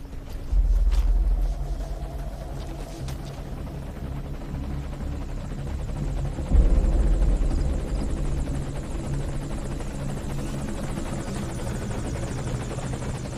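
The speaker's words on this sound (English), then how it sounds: "It sounds like there may be a helicopter incoming." A helicopter's rotor in the video game Metal Gear Solid V: The Phantom Pain thumps steadily, growing louder as it nears, with a deep rumble underneath and no voices.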